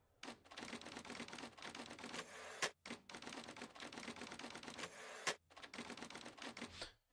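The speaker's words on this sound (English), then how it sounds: "they're still typing with a typewriter" A typewriter clatters with rapid mechanical keystrokes in a video game set in 1992, typing in dense steady bursts broken by two short pauses, with no voices.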